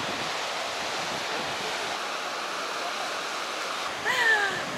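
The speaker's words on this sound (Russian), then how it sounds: "Кругом камушки, море, волны, ветерок прохладный." Sea waves wash over a pebble shore at Kamen Bryag, a steady broadband rush with some wind, and a brief voice near the end.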